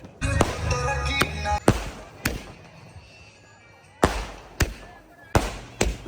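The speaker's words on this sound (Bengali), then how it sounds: "পিছনটাতে দেখতে পাচ্ছেন আতসবাজি চলছে এই যে ফাটকা ফুটছে" Fireworks and firecrackers bursting at a village Eid celebration: several sharp, loud bangs in quick clusters, separated by a stretch of crowd murmur and ambient noise, with more blasts following near the end.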